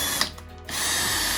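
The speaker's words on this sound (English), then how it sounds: "Let's go ahead and drill them right now" A power drill whines loudly and steadily while boring holes for handles, briefly easing off before spinning back up to a sustained, close drone.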